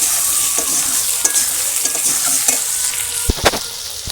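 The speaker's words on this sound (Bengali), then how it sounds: "কচু আলুটা দিয়ে দিলাম। এবার একটা ভালো করে ভেজে নেব।" Taro and potatoes frying in a pan in a village kitchen, a steady sizzle broken by frequent scraping and clinking stirring strokes, with sharper knocks toward the end.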